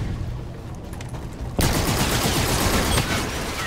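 Light machine gun fire in a first-person shooter, heard as a sustained loud burst of rapid automatic shots that suddenly swells partway through. A low hum of quieter gameplay sound comes before it.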